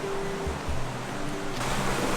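Continuous broad rush of flowing snowmelt water near Nozawa Onsen, Nagano, steady and moderately loud, with faint low sounds in the background and no speech.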